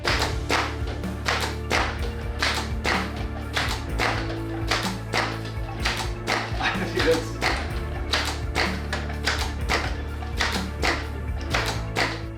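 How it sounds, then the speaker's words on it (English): A belt-fed potato cannon's feed mechanism runs at full speed, giving a rapid, steady stream of sharp mechanical taps and clacks over a low motor hum for the whole stretch. "so I did a full speed system test. Full speed feeding test."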